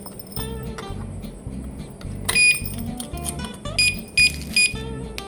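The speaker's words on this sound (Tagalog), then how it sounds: "pag dinanggi nyo, nag-beep na siya ng 3" A motorcycle anti-theft padlock alarm beeps three times: short, shrill electronic beeps over a low rhythmic hum, with bright tones bursting in briefly near the middle and toward the end.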